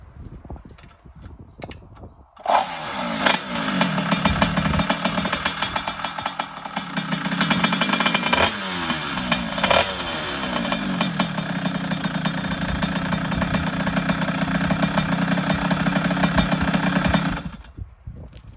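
A Beta Factory 50cc motorcycle engine runs loudly and steadily for most of the clip, starting abruptly after a quieter stretch and cutting off near the end.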